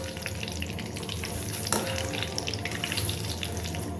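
Curry leaves crackle and fry in hot oil, a steady busy sizzle with a sharp pop partway through.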